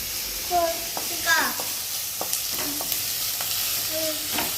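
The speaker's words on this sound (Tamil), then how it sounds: "பச்சை மிளகா அதையும் அப்படியே போட்டு நல்லா வதக்கிக்குவோம்" Green chillies sauté in a hot pan for semiya noodles, with a soft steady sizzle and occasional stirring scrapes, while a voice chirps briefly now and then.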